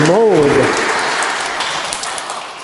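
Congregation applauding at a family Sunday Mass, a dense, even patter of clapping that slowly fades, with a brief voice at the start.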